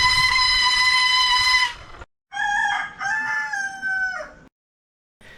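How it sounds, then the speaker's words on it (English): Roosters crow loudly in courtyards on La Digue island in the Seychelles, answering squealing bicycle brakes: a long, piercing sustained call, then a second crowing bout of rising and falling notes close by. "when the brakes squealed, the roosters in the island's courtyards answered me"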